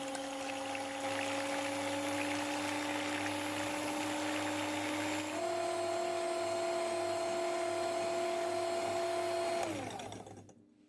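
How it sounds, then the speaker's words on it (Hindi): An electric beater whisks eggs for a sponge cake, a steady motor whine with a steady background hum that shifts pitch midway, then winds down and stops near the end, close and loud with no voices. "ये मेरे पास इलेक्ट्रिक बीटर है, यानी कि ये जो अंडे हैं इन्हें अच्छी तरह से फेंट लेंगे।"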